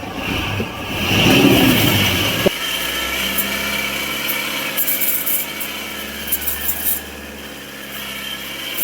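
A Toyota Hilux engine with an alternator fault, idling at a steady rumble after a short burst of rough grinding noise, close and loud, with a faint whine and occasional ticks on top.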